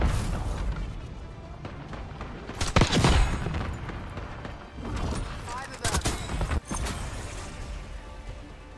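Sniper rifle shots go off in a video game amid a busy battle soundscape. Sharp, heavy reports stand out, with one crack near the middle and another later, over constant rumbling gunfire and voices talking.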